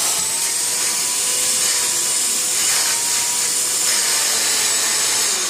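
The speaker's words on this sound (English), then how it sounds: "Let me shop vac my arm." A micro shop vac runs close up as it is passed over an arm, a steady high-pitched whining suction roar that stays loud and even throughout.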